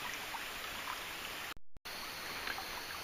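South Muddy Creek flows with a steady, even rush of water, with a brief gap partway through.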